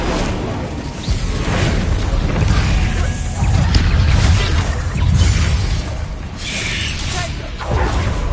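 An Incendio fire spell cast in the Hogwarts Legacy video game, a dense, loud rush of crashing, whooshing combat effects and booming bursts rolling on for about eight seconds.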